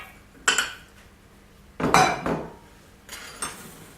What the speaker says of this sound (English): Now just mix it all together.